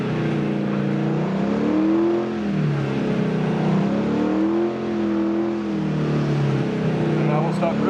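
Car drifting in a wide circle, with the engine droning steadily and rising and falling in pitch as the throttle is worked, heard close and continuous.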